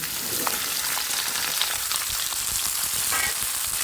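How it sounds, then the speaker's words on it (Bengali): Ginger frying in a pan for a pumpkin and potato curry sizzles steadily and close, a dense hiss with faint stirring scrapes throughout. "আদাটা একটু ভেজে নিয়ে ওর মধ্যে দিয়ে দেবো কেটে রাখা কুমড়োগুলো আলুগুলো"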